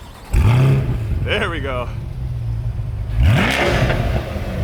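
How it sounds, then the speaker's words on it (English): A 2020 Chevrolet C8 Corvette convertible engine starts with a loud crank and roar, settles to an idle, then revs sharply again, while people talk nearby. "He's going to go ahead and fire it up for us."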